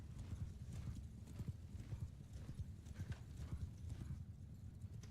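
Cavalry horses gallop in a Mount & Blade battle, a dense steady drumming of many hooves with occasional whinnies over a low rumbling battlefield din.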